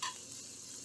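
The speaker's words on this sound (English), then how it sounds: "while the onions are sauteing" Red onion softening and sautéing in a hot pan, a steady faint sizzle with a brief brighter crackle at the start, heard alone without talk.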